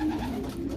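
Racing pigeons coo in a steady low murmur, a continuous soft throaty warble close by with no other sounds over it.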